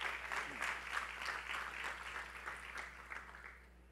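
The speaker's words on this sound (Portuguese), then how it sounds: "Pode aplaudir Jesus" Church congregation applauding during a sermon, steady clapping from a crowd that swells and fades over a few seconds, with no speech on top.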